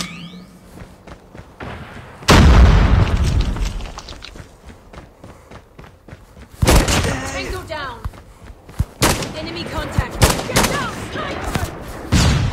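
Video game gunfire sounds in loud, close blasts and bursts of shots with heavy thuds, separated by quieter stretches where faint footsteps and game sounds continue.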